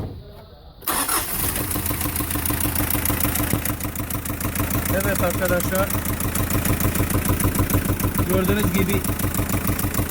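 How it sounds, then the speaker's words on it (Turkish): A 2003 Hyundai H100 van engine with a noise from the intake manifold cranks and catches, then idles with a steady, rapid, slightly knocking chug close by while someone talks over it. "Arkadaşlar araçtan motordan bir ses geliyor."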